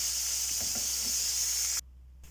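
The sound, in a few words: onions frying in pan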